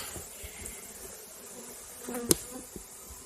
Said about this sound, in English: They're gentle bees, although it doesn't look like it right now.